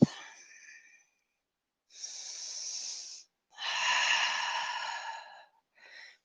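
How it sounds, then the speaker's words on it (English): Deep yoga breaths are heard close and clear in several long airy draws and exhales separated by silent pauses, with a short final breath at the end. "Take a deep breath."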